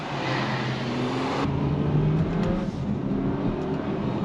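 A 2023 Volkswagen Arteon R-Line accelerates hard with a loud, steady engine roar and rising drone heard from inside the car, with no one speaking.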